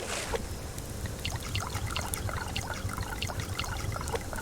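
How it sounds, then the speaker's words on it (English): Water trickling and pouring steadily as canteens are filled, a continuous bubbling, splashing stream at close range with no talking. "And then I need to fill up my canteens."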